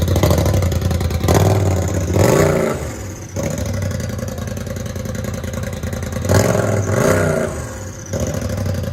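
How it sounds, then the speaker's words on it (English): A 2021 Polaris RZR XP 1000 Turbo with a straight pipe exhaust, idling roughly and then revved hard twice in two separate blips, each a loud, close, raspy rise and fall. "This is what it sounds like straight pipe"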